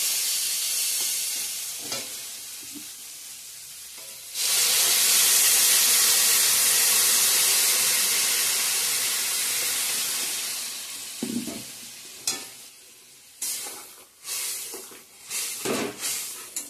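Water poured into a pan of spice paste frying in oil sets off a loud burst of sizzling and hissing that slowly fades, followed by softer stirring clatter and bubbling.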